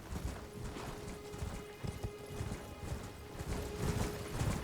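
Horse hooves clip-clopping in Elden Ring, a steady trotting rhythm of dull thuds over a constant game ambience, fairly close and moderately loud with no talk.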